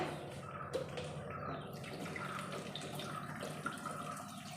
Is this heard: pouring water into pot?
yes